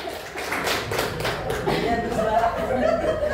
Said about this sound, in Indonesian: Tepuk tangan dong buat Pak Daud.